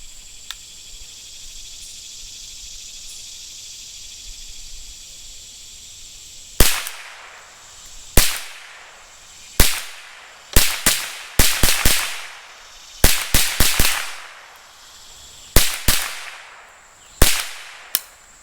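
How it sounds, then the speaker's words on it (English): A Stevens 87A rifle fires about a dozen sharp, loud reports, spaced irregularly and sometimes in quick pairs, after a quiet stretch with insects chirping steadily in the background. "let's go ahead and shoot it again"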